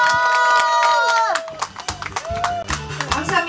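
Audience applause at a seaside busking concert on Gyeongju's Yangnam beach, loud scattered claps breaking out partway through as sustained music tones fade, mixed with crowd noise.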